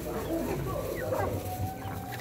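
Hens cluck softly and intermittently amid voices and background farmyard noise.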